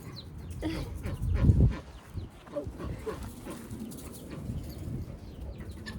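Chickens cluck and chatter as they are let out, amid rustling and shuffling, with a loud low bump early on and scattered movement nearby.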